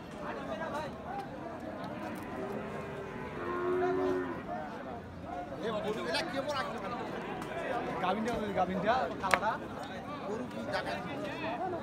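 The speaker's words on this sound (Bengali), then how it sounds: "আমরা দেখছি এখানে খাদেমুল ভাই, কুনু ভাই সার গরু দরদাম করছেন" Cattle moo repeatedly at the Ambari haat, a busy livestock market where bulls and cows are traded. The drawn-out lowing is close and loud over constant crowd chatter and voices.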